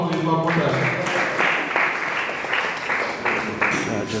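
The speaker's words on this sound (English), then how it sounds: "Can we give him another applause, please, one more time?" An audience at a forum on electoral integrity gives a presenter a steady round of applause, a sustained wash of many hands clapping from start to finish, with a voice faintly over it at the start.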